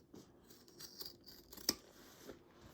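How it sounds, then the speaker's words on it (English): Scissors trimming excess fabric off a sewn tote bag, a few quiet soft snips and rustles close by, with one sharper cut near the middle. "you're going to trim off your excess and you're going to trim it down to a 1/4 inch"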